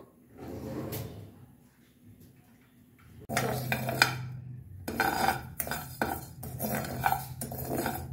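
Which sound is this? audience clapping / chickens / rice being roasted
rice being roasted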